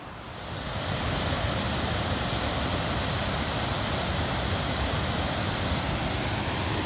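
Low Force waterfall in the North Pennines roars with a dense, steady rush of water that swells in over the first second, then holds loud and close, with no voices.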